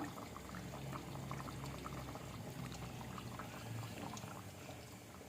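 Coconut milk poured into a simmering beef curry, with a steady close bubbling and liquid splashing that continues at low level without a break.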